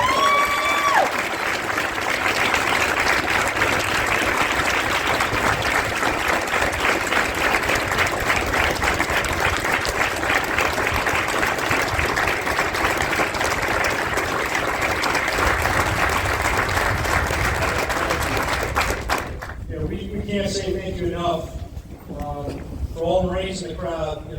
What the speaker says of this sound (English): I just want to give another round of applause to this incredible group